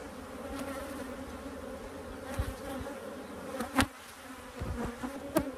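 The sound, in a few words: honeybees buzzing at an opened beehive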